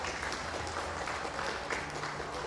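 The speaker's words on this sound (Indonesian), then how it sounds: "Tepuk tangan yang meriah untuk 10 kepala daerah penerima anugerah kebudayaan." An audience at a national press day ceremony applauds ten regional heads receiving culture awards, producing sustained, dense clapping that holds at an even level throughout, with faint crowd murmur underneath.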